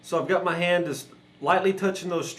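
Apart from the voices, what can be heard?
No distinct noise like a dog, phone or traffic.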